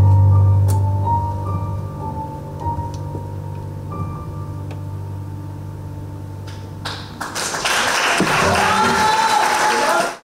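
A sustained musical chord from a composition fades out, then an audience bursts into steady, full applause that carries on to the end.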